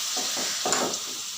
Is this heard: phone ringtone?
no